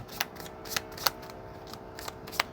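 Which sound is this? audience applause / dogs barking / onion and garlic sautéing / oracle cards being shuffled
oracle cards being shuffled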